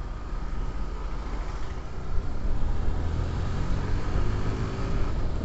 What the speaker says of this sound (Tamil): செம்ம டிராஃபிக் இருக்கு